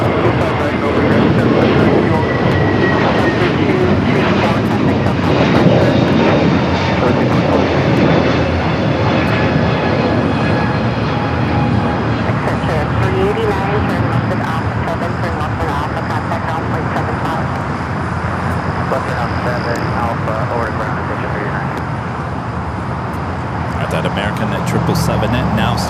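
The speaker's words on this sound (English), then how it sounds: "777 now starting its taxi" A Boeing 777 airliner taxiing at LAX gives off a loud, sustained jet engine roar with a rising whine, and people talk over it along with air traffic radio.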